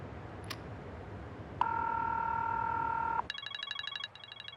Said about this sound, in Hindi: तुम्हारे बाबा की कॉल आ रही है